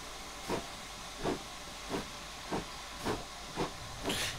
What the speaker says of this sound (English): We need the blower on because we're going into a tunnel.